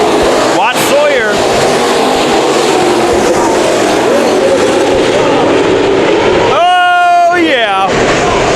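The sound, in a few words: IMCA modified race cars racing at Bakersfield Speedway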